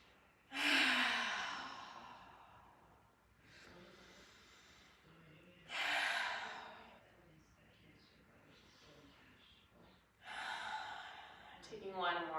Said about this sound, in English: we're going to take 5 full deep breaths